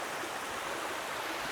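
Appalachian creek water flowing steadily near a waterfall in Shenandoah National Park, a continuous broadband rush that stays close and even throughout, with no voices.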